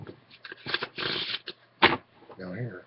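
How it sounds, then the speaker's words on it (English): A deck of playing cards riffled and shuffled close up in several quick bursts of papery flutter, with a voice speaking briefly at the end. "I shuffled the cards"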